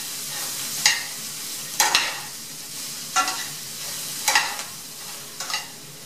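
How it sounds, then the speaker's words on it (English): Broccoli and bell pepper tossed in a pan with butter, olive oil, salt and pepper, heard as five separate close scraping, rattling tosses spaced about a second apart over a quiet background. "add the broccoli and the bell pepper and just toss it around a little bit"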